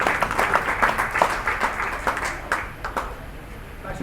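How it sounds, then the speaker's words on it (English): An audience claps and applauds steadily at a stand-up comedy show in a food court in Muscat, Oman, the clapping dense at first and then thinning out toward the end. "Can I have a round of applause for this guy?"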